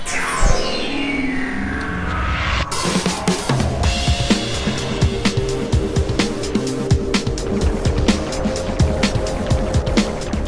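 Formula E race cars in a video game at the Tokyo ePrix, a loud continuous electric whine with rising pitch sweeps and a sharp shift in tone, followed by steady dense engine noise with rapid clicks.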